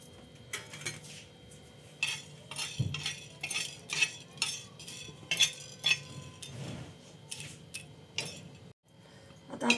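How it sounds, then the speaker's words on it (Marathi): Whole cloves, peppercorns and a cinnamon stick dry roasting in a pan give repeated light metallic scraping and rattling as a spatula stirs them, close and irregular with brief pauses. "4-5 लवंगा, 4-5 मिरे आणि दालचिनी पण आपण भाजून घेऊ।"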